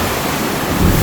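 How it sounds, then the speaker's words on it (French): Intense ocean waves at Crystal Cove Island in Boracay, a loud, steady roar of surf mixed with wind noise buffeting the microphone, swelling slightly toward the end. "C'est vraiment très intense aujourd'hui, les vagues."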